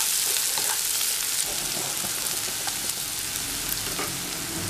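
Chicken pieces frying with onions in a pan for Tamil chicken chukka varuval, a steady close hiss and crackle of sizzling oil running without a break, with no voices.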